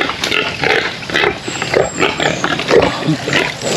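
Pigs at feeding time on a farm grunt repeatedly in short, close, rough bursts with a loud irregular rhythm, mixed with rustling and feed noise.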